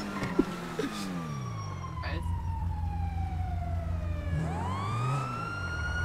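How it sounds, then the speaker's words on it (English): Police car sirens wail steadily in GTA 5, a loud rising and falling tone with a continuous vehicle engine rumble underneath and a couple of brief knocks. "The sirens are gone again."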